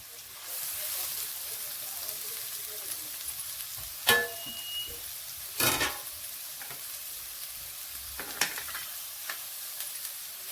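Chopped onion sautéing in a pan while a prawn masala is being cooked, giving a steady close sizzle and frying hiss with a few sharp stir and scrape clatters and no talking.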